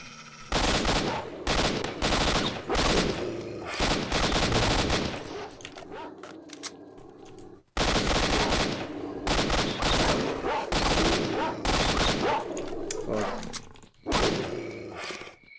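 Gunfire in STALKER: Shadow of Chernobyl, with dense, loud bursts of automatic fire and rapid shots packed together, one brief lull near the middle before the shooting resumes and continues to the end.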